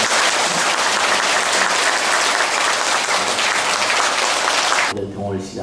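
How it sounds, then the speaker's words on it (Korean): A Buddhist audience at a commemorative dharma service gives a monk loud, sustained applause, a dense roar of many hands that continues and then fades into a voice speaking at the end. "불자 여러분들께서는 큰 박수로 스님을 환영해 주시기"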